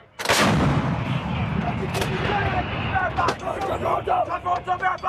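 A U.S. Marine M777 towed 155mm howitzer fires one loud, sharp blast at close range during a live-fire exercise. A long rumbling decay follows, with voices of the crew talking afterward.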